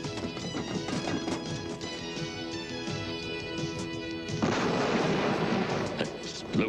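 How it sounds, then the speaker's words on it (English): Booming blasts and gunfire-like bursts from a Star Wars Droids video game explode repeatedly over a tonal music bed, with a heavier roaring barrage in the second half. "Explosions?"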